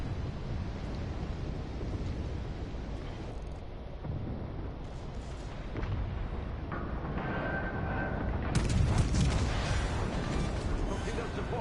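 Explosions rumble as an enemy cruiser is destroyed in a naval battle on PS4, a continuous heavy low roar that swells louder toward the end with crackling bursts on top.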